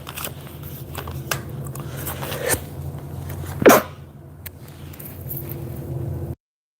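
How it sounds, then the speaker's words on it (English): One short, sharp sneeze bursts out partway through, over a quiet background hum with a few soft rustles. "I had to sneeze."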